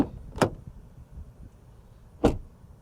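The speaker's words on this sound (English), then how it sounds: "Door open and close from the outside." A 2022 Genesis GV70 door is worked from outside, two sharp solid thumps about two seconds apart, close and distinct against quiet surroundings.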